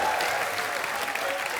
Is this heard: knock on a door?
no